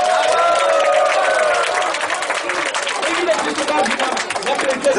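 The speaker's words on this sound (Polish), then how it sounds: "jeszcze raz poproszę kibiców, wielkie brawa, wsparcie dla naszych zawodników" A crowd of race spectators at the Świeradów-Zdrój Super Bieg applauds and cheers the runners, a dense, loud, continuous wash of clapping and shouts with an announcer's voice over it.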